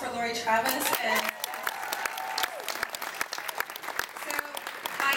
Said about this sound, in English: So one last round of applause for Lori Travis.